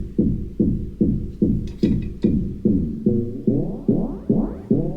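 Sine-wave synth bass playing a steady repeating pattern of plucked low notes, about two per second, with the tone opening up and brightening toward the end; loud and close with no talk.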